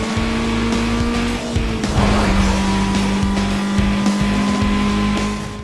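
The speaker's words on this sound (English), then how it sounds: "That doesn't prevent Taz from being an asshole though and pushing us out of the way with his souped up Lexus." A stock Chevy races a souped-up Lexus in the video game Need for Speed: Most Wanted, with loud continuous engine roar, shifting tones, and tire squeal and scuffing throughout.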